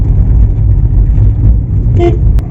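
Trucks and other traffic rumble along a mountain road in a loud, continuous low drone, with a short honk of a horn near the end.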